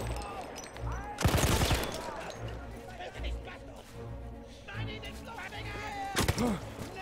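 Sniper rifle fire in the World War I shooter Battlefield 1, with a couple of loud, sharp cracks standing out over constant battle noise and scattered gunfire, and a voice talking throughout.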